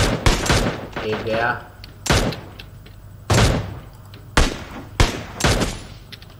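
Sharp, loud single gunshots ring out in PUBG Mobile, about six spaced cracks across a few seconds, mixed with excited voices talking between shots.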